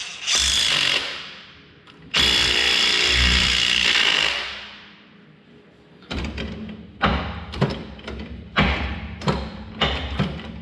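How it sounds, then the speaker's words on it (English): Bolts are tightened with a power tool on a 1550 tractor: two long, loud whirring runs, then a string of short bursts and thuds in quick succession, with no talk. "Let me tighten them down."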